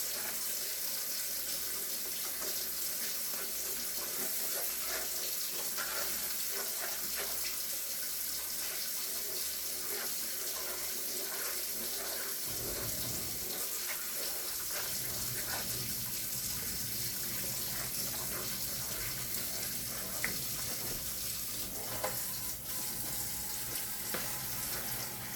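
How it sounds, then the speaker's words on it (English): Water pours steadily into a pan of cooking gravy to thicken it, a faint continuous splashing trickle with a soft sizzle underneath, and no talking. "So now we're just gonna add this water, and this water gonna make it start thickening up."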